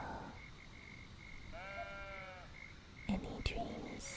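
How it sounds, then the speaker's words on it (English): Sheep in the cozy building game Tiny Glade give a single clear bleat with a wavering, nasal tone midway through a quiet scene, followed by a few soft clicks. "The sheep walking around are very cute."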